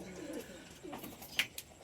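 Soft, low cooing of thirteen pigeons close by, with a brief sharp chirp and faint rustling in a quiet setting.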